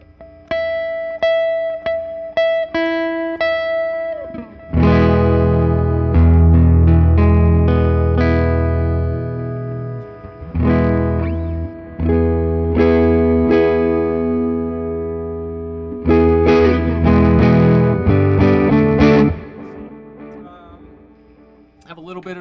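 A restored 1959 Gibson L5 archtop guitar rings out with delay and reverb, loud and close. Strummed chords and single notes sustain and swell into echoing tails, with pauses between phrases.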